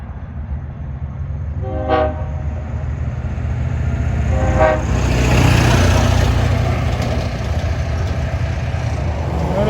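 A Long Island Rail Road train sounds its horn for a grade crossing, two short loud blasts over the steady rumble of the passing train, with the roar of the cars swelling afterward.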